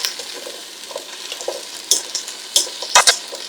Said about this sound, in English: Let's give these one last little stir here.